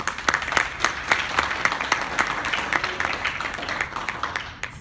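A round of applause at a school PTSA general meeting, with individual hand claps standing out in a steady, moderately close patter that continues evenly for a few seconds.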